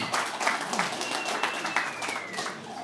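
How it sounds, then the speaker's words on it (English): A crowd at a member-run nonprofit Bitcoin hub in Denver gives a round of applause, a brisk patter of many hands at moderate volume, with voices mixed in and a thin whistling tone drifting across the middle. "Please, round of applause for you all."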